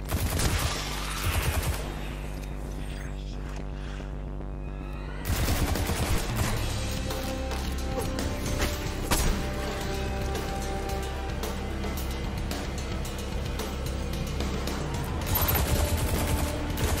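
Weapon fire in the video game Destiny 2: dense automatic bursts, a short lull, then sustained loud rapid shots pressing on to the end, with no talking.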